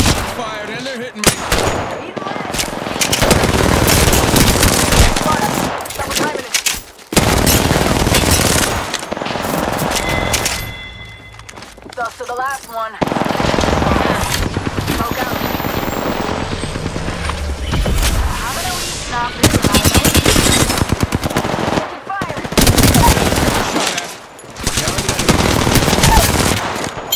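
Gunfire in the battle royale video game Apex Legends: loud bursts of rapid automatic fire and single shots in a dense exchange, separated by brief pauses, with a voice speaking between volleys.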